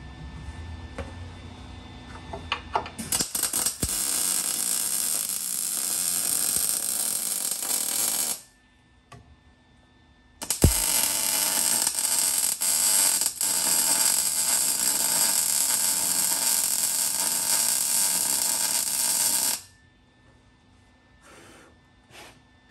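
An arc welder running a bead on a camper build in a garage, giving two long, steady buzzing crackles of roughly eight seconds each with a short pause between, loud and close with no talk.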